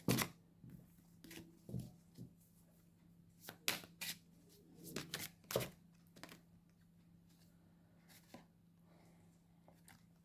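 Tarot cards drawn and laid out on a surface: soft, scattered flicks and slaps of card, some in quick clusters and some single, close and quiet over a faint steady hum, no talking.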